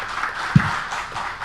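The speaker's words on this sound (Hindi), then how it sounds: "ये तालियां गवाह हैं" An audience at a political party gathering applauds, a steady wash of close, dense clapping throughout the brief moment with one sharper clap standing out.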